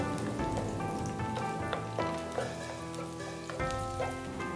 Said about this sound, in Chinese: 炒至蒜蓉金黄